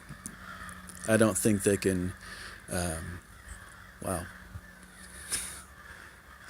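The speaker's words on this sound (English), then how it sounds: "You could hear some really angry birds." Crows cawing outdoors in a short burst of loud, harsh calls, then a few scattered caws, heard in light wind with a person talking close to a phone microphone.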